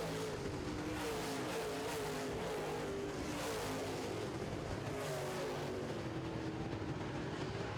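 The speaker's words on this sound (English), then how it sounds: "That car driving off very well." A modified race car at a race track roars as it drives off, its engine note rising and falling steadily and loud throughout, with no talk.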